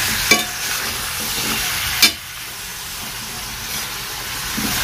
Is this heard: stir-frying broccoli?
yes